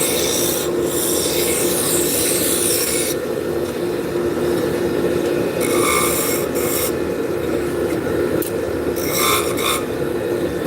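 A metal wrench held as a caliper rubs and rasps steadily over spinning wood on a lathe, giving a continuous close scraping hiss over the machine's hum, with brief brighter scratchy bursts.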